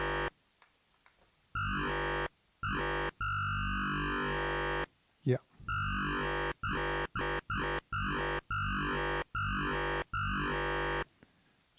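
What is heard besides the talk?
Yamaha DX7 synthesizer robot voice patch with rising envelope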